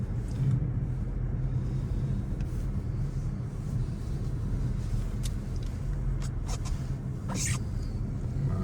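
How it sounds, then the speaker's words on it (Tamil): Low road rumble from vehicles passing continuously at a distance on a road in Canada during a snowstorm, a steady muffled traffic drone with no voices. "கொஞ்சம் கொஞ்சம் ரோட்டு வழியாக வாகனங்கள் கூட வந்து கொண்டிருக்கின்ற"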